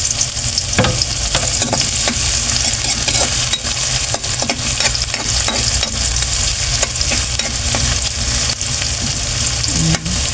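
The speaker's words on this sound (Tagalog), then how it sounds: "Ating pong bawang. At ating sibuyas. Sama-samahin na natin ito." Garlic, ginger and onion sizzle steadily in a hot pan for squid adobo, a dense continuous frying hiss with occasional stirring scrapes, close and loud throughout with no talking.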